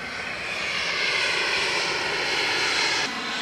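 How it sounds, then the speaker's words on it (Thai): Aircraft engines roar steadily at an airfield in the San Francisco area where many planes sit parked, a loud continuous broadband drone with no talk. "อุ้ยเครื่องบินเยอะมาก"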